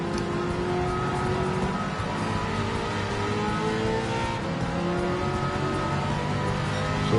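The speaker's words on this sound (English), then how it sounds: "because the engine sounds so good." A road car engine racing at Le Mans in Gran Turismo 7, a loud steady engine drone with sustained revving and shifting harmonics throughout, no voices.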